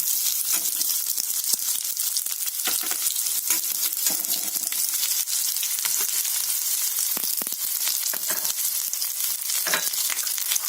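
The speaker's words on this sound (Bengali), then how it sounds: "জিরাটা ফ্রাই হয়ে গেছে, দিয়ে দেব 2টো মাঝারি সাইজের পেঁয়াজ কুচি করে নিয়েছি" Two medium onions, chopped, fry with cumin in hot oil, a dense, close crackling sizzle that runs unbroken throughout, with scattered sharper pops and no voices.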